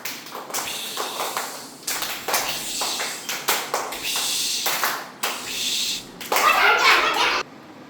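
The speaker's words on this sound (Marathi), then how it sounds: "आता दुसरा प्रकार फटाका टाळी." A class of schoolchildren doing the 'firecracker' clap, a series of sharp, crackling clap bursts in quick succession, ending in a dense, rapid flurry, with children's voices in between.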